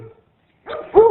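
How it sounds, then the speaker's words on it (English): Dogs in a backyard give a couple of short barks, a softer yip followed by a louder, close bark after a brief silence, with no talking. "the dogs say hello"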